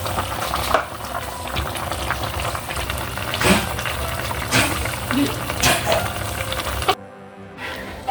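A steady bubbling, hissing boil of chicken tinola soup with malunggay simmers throughout in a covered pot, with a few clinks and a brief muffled drop near the end; a voice speaks over it.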